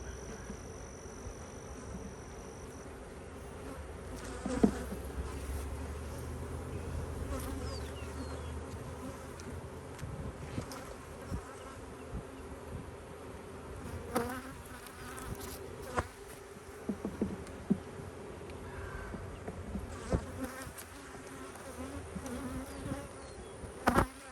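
Honey bees buzz around an open, queenless hive in a cow pasture apiary, a dense steady drone heard close up throughout, with scattered knocks and handling clicks from the hive work.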